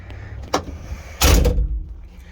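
Door of a widebody IMSA-style Nissan 300ZX as the driver climbs in, a brief knock followed by a louder, heavy thud and shuffling movement, close by, no talking.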